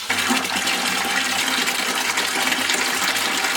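Aquarium water gushes and rushes steadily through a canister filter hose during a water change, a loud, continuous close-up flow with no pauses.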